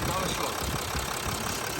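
A Mercedes Sprinter 319 diesel engine from 2019 idles under the open hood, a steady close rumble with a faint knocking texture, and a voice talks over it.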